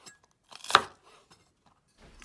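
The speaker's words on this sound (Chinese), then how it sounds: "接着准备一根青椒，给它去籽儿，然后滚刀切成块" A knife chops a green pepper into chunks on a cutting board: one firm, clear chop stands out amid a few faint, scattered taps, with quiet pauses between.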